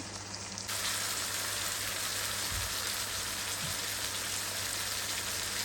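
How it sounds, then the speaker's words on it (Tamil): Fennel, onion, crushed garlic and tomato fry in a pan with a dense, steady sizzle that swells after a brief quieter start and keeps going with no one talking. "பெருஞ்சீரகம் வெங்காயம் வெங்காயம் உள்ளி இடித்து போட்டிருக்கிறேன் தக்காளி பழம் எல்லாமே சேர்த்து நாங்கள் அதங்க விட்டுருக்குறோம்"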